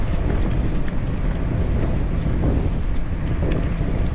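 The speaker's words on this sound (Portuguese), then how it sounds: "Agora já virou um pouquinho o vento, ó, vento lateral." Steady crosswind roars against the microphone throughout a long bicycle road ride, a constant low rumbling buffet with no pauses and no talking.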